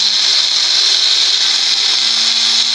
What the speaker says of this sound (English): now we are blending our coffee to mix well